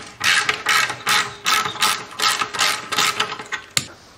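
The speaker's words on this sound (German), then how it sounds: "Damit machen wir jetzt erstmal hier die Schellen vom Endtopf lose." A 9/16-inch ratchet loosens the exhaust muffler clamps on a Harley-Davidson fitted with Vance & Hines Short Shots pipes, making repeated bursts of crisp ratcheting clicks separated by short pauses.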